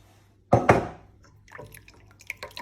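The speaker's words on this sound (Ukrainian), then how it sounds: "Виливаю 100 грам розтопленого масличка." Melted butter poured into a bowl of milk, sugar and eggs as pastry dough is mixed, heard as a sudden close splash followed by softer liquid drips and light clinks.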